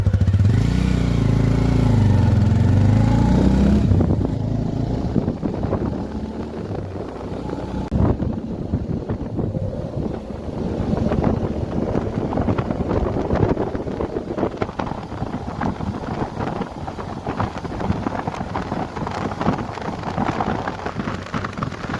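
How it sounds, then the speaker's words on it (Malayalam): Motorcycle ride on a rural road through Jharkhand villages toward the Lara river, with a steady engine drone and heavy wind buffeting the microphone throughout, loud and close, with no talking. "അങ്ങനെ ഒരു ബൈക്കിൽ ലിഫ്റ്റ് കിട്ടി"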